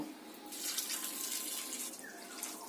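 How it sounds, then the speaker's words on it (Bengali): Cold tap water runs steadily over boiled chow mein noodles in a strainer as they are rinsed, a close, continuous splashing gush that never pauses. "চাউমিনটাকে আমি জল ঝরিয়ে নিয়েছি, ঠান্ডা জলে একটু ধুয়ে নেব।"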